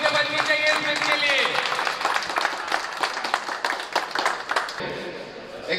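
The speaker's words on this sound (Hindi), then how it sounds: "तो तालियां एक बार जोर से बजनी चाहिए इसके लिए।" A crowd applauds a rider at a Bajaj Pulsar motorcycle launch event, with many hands clapping in a brisk, dense patter. Voices and a brief tonal sound can be heard over the clapping before it thins out.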